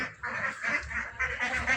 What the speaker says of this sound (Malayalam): അപ്പോൾ ഇതിൽ നല്ല കളർഫുള്ളായിട്ടുള്ള ഒരുപാട് താറാവുകളുണ്ട്.